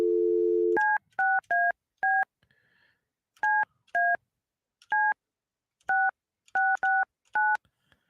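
A telephone is dialed: a brief steady dial tone, then a series of crisp two-tone keypad beeps in uneven bursts of one or two, with short silent gaps between them and no one talking.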